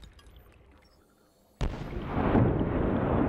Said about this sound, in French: On dirait qu'il y a une sorte d'explosion de lave ici.